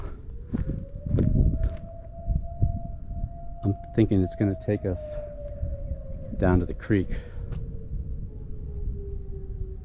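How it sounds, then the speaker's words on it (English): A long, steady civil defense siren test wail drifts from far off, rising slightly then slowly fading, while footsteps crunch on a trail and a person talks nearby. "And they're testing out a siren."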